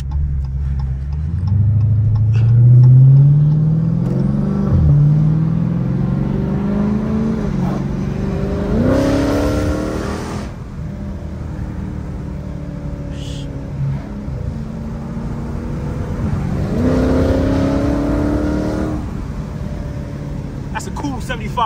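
A 500 hp Dodge Scat Pack V8 weaves through traffic, its engine rising in several long climbing revs with a deep exhaust drone and shifting pitch, while a blinker ticks steadily and voices talk over it inside the cabin.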